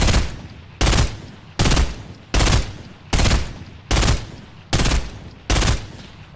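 Eight evenly spaced bursts of gunfire from a new burst assault rifle in Fortnite Battle Royale, each loud and sharp with a quick decaying tail, repeating roughly every 0.8 seconds with no talk.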